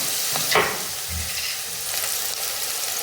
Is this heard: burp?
no